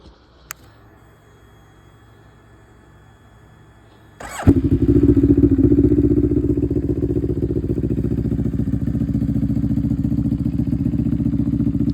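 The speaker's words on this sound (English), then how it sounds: "I'll start this thing up and then I'll show you those lights." A 2023 Moto Morini Seiemmezzo 650 motorcycle engine cranks and fires after a few quiet seconds, then settles into a steady, loud, close idle that continues without talk.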